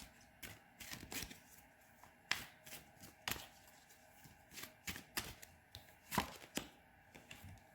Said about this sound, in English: I'm going to pull some oracle cards.